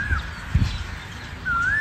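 Birds call in Wah Garden, a Mughal-era garden in Pakistan: two short, clear whistled calls, one at the start and one at the end, over a low outdoor rumble with no talking.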